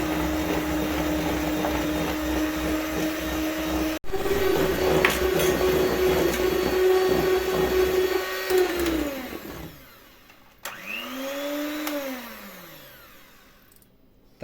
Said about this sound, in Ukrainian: Тепер його треба збити, щоб були в нас білі піки.